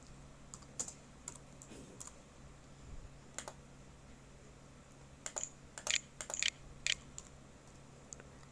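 Quiet typing on a computer keyboard while entering text into a Microsoft Excel sheet: scattered single key clicks, then a denser cluster of sharper taps near the end, with no talking over them.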